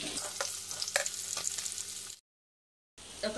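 Eggplant and potatoes fry in a little oil in a kadai, a close, busy sizzle broken by crisp spatula scrapes and pops, then cut off by a short silent gap before the sizzle returns.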